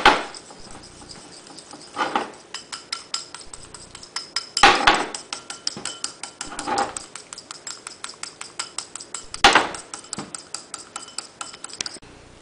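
Whisking a homemade dry-skin face mask mixture in a bowl: a rapid, steady series of light clinks and scrapes from a utensil against the container, with a few louder knocks, close and fairly quiet.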